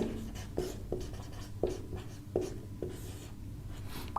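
Chalk or marker writing on a board during a chemistry lesson, a series of short rhythmic scratching strokes about every half second, close and moderately quiet against faint room noise.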